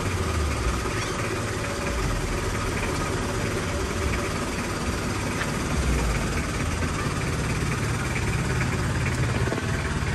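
A motorcycle engine idles steadily up close, a constant low rumble with a faint knocking beat and a continuous vibrating hum from start to finish.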